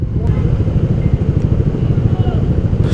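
Motorcycles ride along a road at the Bacoor and Las Piñas boundary, a loud, dense engine drone filling the space with a constant low rumble, and people talk over it.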